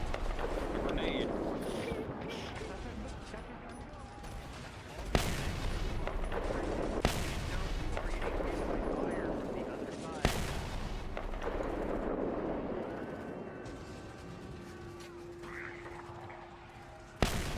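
Video game gunfire in a shooter, a dense continuous rattle of shots with a few louder bangs standing out, heard over a steady, busy background of battle noise.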